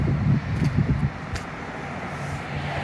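A GMC truck drives along the road, its engine a steady low rumble with road and wind noise, a little busier in the first second before settling into an even drone.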